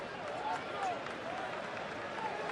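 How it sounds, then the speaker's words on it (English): Scattered clapping from a baseball stadium crowd in the stands, steady and moderate, with a voice talking over it, at a Milwaukee at Colorado game. "Some folks applauding in the stands."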